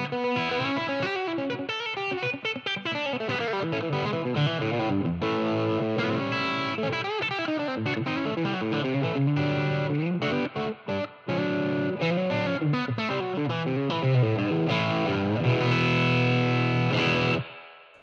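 An electric guitar plays through a TC 2290 delay unit on a classic preset, giving a loud, continuous, distorted melodic passage with repeating echoes, with no talking.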